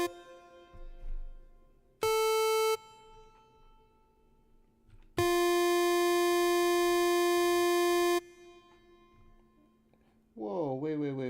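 A Sonicware ELZ_1 synthesizer plays sustained bright tones with master reverb, long held notes whose tails ring out and decay between bursts, ending in a swooping pitch bend.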